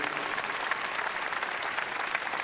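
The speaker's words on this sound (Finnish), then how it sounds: "Annetaan näille miehille aplodit kyllä." An audience at a large religious gathering applauds steadily, dense hand-clapping sustained throughout at moderate level with no speech over it.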